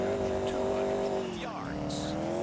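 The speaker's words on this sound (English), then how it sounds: "They're revving like crazy." Car engines in Grand Theft Auto IV rev and whine continuously, with a tire squeal in the middle, under a steady roar of motor noise.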